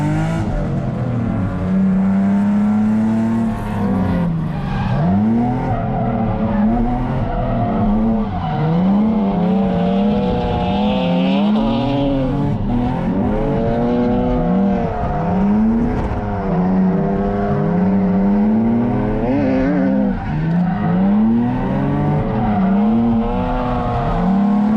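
Cars drift sideways in tandem on a wet track, among them an IS300 with few power mods. Engines rev loud and continuously near the listener, pitch rising and falling with throttle, and tires hiss and squeal throughout.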